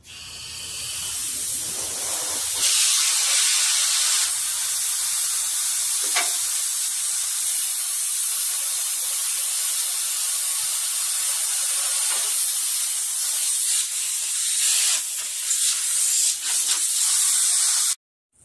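Compressed air from an air tank hisses loudly and steadily for about fifteen seconds, part of an airbag suspension install. The hiss is broad and harsh and shifts slightly now and then before cutting off abruptly.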